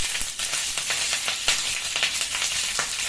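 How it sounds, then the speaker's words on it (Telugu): Dried red chillies, green chillies, curry leaves and asafoetida fry in hot oil with popped mustard seeds for lemon rice, giving a loud, steady close sizzle with quick spatters and crackles. "కొద్దిగా ఇంగువ వేసి బాగా ఫ్రై చేసుకోండి."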